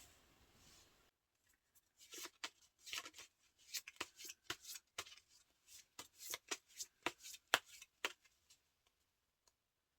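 Tarot cards are shuffled in a quiet room, a run of crisp, rapid riffling and slapping bursts coming in quick irregular clusters, close and fairly soft, with no voice over them.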